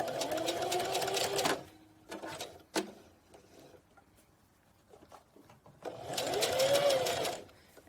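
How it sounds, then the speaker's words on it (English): A sewing machine back stitches a seam on a fabric pumpkin in two loud close bursts of rapid mechanical whirring, separated by a quieter pause with small clicks and fabric handling. "And then we're gonna start by back stitching"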